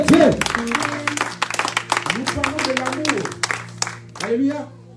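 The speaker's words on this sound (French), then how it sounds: "Est-ce que tu peux donner une bonne acclamation à la parole de Dieu?" A church congregation claps loudly during a worship conference, dense rapid clapping mixed with cheering voices and sustained musical tones throughout.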